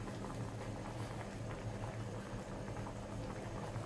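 Kaeng tai pla, a Thai fish kidney curry with kaffir lime leaves, boils in a pot with a steady, dense bubbling and rumble, close and continuous, with no voices.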